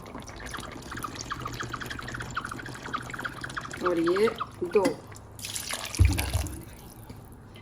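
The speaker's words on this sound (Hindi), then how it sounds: "तो मैं पानी डालना शुरू करती हूँ।" Water is poured into a cooking pot for a potato and peas rice dish. The liquid splashes and trickles briefly, mostly near the end, under a woman's speech.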